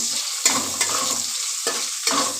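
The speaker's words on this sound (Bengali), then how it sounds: "এবার এটাকে ভালো করে ভেজে নেব" Salted paneer fries in a pan with a bright, even sizzle, punctuated by several sharp spatula scrapes and knocks as the pieces are turned, close and loud with no talking.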